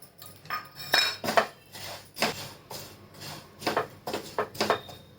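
Fennel seeds being dry-heated in a pan for mango pickle, a metal spoon scraping and clinking against the pan in irregular bursts, close and moderately loud, with no talking.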